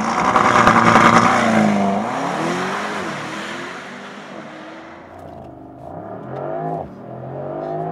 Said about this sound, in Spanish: arrancamos el motor, vamos a escuchar la sinfonía de este V8,